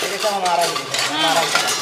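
Metal cookware such as a pressure cooker, pot and flat tawa griddle is handled, giving continuous close clanking and ringing scrapes of metal against metal throughout a brief moment.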